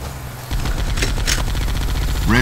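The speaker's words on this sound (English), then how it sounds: "That's the machine gun that's mounted on the back." The mounted machine gun on the back of a vehicle fires in Halo capture-the-flag multiplayer on Blood Gulch. It is a loud, continuous burst of rapid automatic shots that starts abruptly and carries on to the end.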